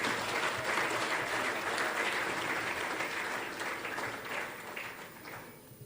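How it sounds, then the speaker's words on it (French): A large audience applauds and cheers warmly at a formal ceremony, steady dense clapping throughout that tapers slightly toward the end. "je vous invite à applaudir et acclamer chaleureusement pour vous-même."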